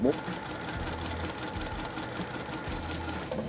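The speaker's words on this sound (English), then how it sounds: "I'm going to sew down each side" A sewing machine stitching half square triangle quilt pieces for a bear paw quilt runs in steady whirring bursts, close and fairly quiet, with short pauses between runs.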